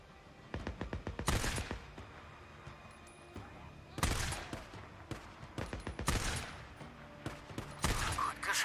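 Rapid gunfire rattles against Rippers in the Days Gone video game, with loud volleys of shots arriving in several dense bursts separated by brief lulls.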